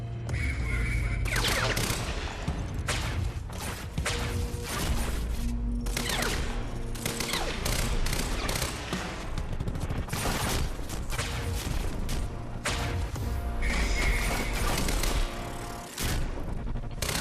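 Gunfire in the video game Quantum Break, a dense, loud barrage of repeated shots and booms running almost without pause, with heavy low rumble beneath the sharp reports.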